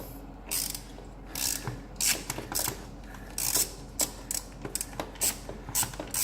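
A wrench ratchets while loosening a 12 mm bolt on a Nissan GT-R dump valve, giving short bursts of close, crisp clicking in an uneven rhythm with brief pauses between strokes.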